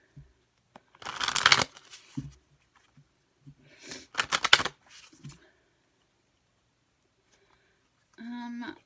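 Two bursts of crisp riffling card shuffling, each about a second long, separated by quiet pauses, with a short tonal beep near the end.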